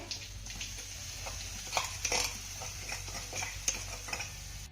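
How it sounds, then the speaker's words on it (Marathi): Ground paste sautés in a pan with cumin and chopped curry leaves, a low sizzle broken by repeated spoon taps and stirring clinks. "आता हे वाटण आपल्याला एक ते दीड मिनिटं चांगलं परतून घ्यायचं आहे"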